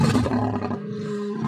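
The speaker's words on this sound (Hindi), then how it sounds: "ये तो शेर के दहाड़ने की आवाज है।" A cartoon lion gives a deep, loud roar that swells and then tapers into a lower rumbling growl, heard alone and up close.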